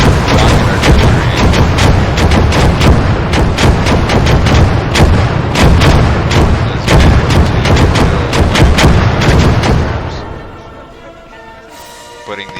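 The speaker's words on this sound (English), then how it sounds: "Rocket artillery." Rocket artillery barrages in the WWII game Gates of Hell, a loud dense stream of rapid booming launches and blasts for about ten seconds, then fading to a quieter rumble with a faint voice near the end.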